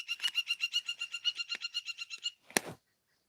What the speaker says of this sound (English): The birds are really vocal today.